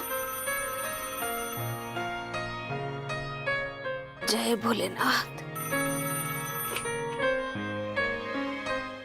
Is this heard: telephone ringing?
yes